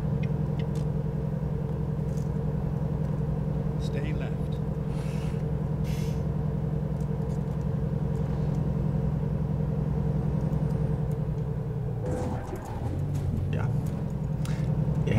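A heavy truck in a driving game on a Kansas road, hauling a heavy load, holds a steady, loud low engine drone throughout as it speeds up to overtake, with a brief dip and shift near the end.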